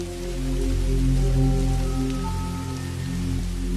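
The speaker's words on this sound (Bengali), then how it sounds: "কথাটা ভাবতে না ভাবতেই ঝমঝম করে শুরু হলো মুষলধারে বৃষ্টি।" Heavy pouring rain in a Bengali cartoon, a dense steady wash of downpour that swells and holds at close range, with no speech.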